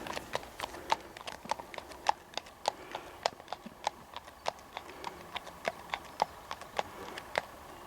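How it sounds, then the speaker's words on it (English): Hooves clip-clop in an even, regular rhythm as horses are exercised on Dartmoor, crisp and fairly close, against a quiet outdoor background. "People are exercising their horses."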